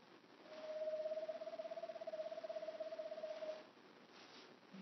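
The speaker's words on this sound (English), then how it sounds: "if you ever hear that, that's the eastern screech owl" An eastern screech owl call played from a recording gives one faint, even trill lasting about three seconds, a rapid quavering whinny over soft background hiss, with no speech.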